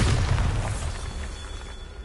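A Bombarda blasting spell goes off in Hogwarts Legacy, giving a deep booming explosion that is loudest at the start and trails into a rumbling decay over about two seconds.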